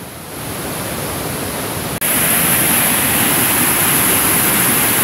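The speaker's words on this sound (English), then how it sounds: "just to give you a more intimate look at this waterfall" Berea Falls, a stair-step waterfall at Rocky River Reservation in Ohio, roars as a steady broadband rush heard up close, loud and unbroken, growing louder after a brief dip.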